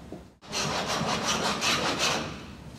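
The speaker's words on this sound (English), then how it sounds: "those knicker irons are going to score the wood" A wooden joinery dado plane with knicker irons cuts wood in a series of steady, rhythmic rasping strokes, close and fairly loud, starting after a brief silence.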